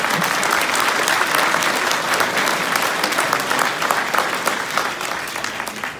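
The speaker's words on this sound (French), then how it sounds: "On peut l'applaudir." A crowd at an outdoor rally against a property tax rise bursts into sustained applause, dense clapping from many hands that holds steady and tapers slightly at the end.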